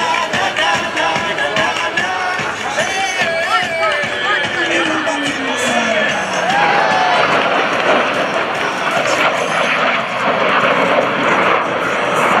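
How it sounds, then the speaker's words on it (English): Loud US Navy Blue Angels jets roar through an opposing knife-edge pass at an airshow, engine noise swelling and sweeping past with a falling pitch while a crowd murmurs underneath. "roll their aircraft into a 90-degree angle of bank and push forward on the stick as they perform the opposing knife-edge pass"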